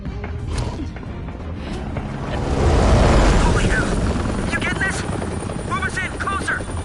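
A helicopter's rotor in the video game Batman: The Telltale Series thumps steadily and loudly, swelling in the middle, with a voice speaking over it and some high chirps near the end.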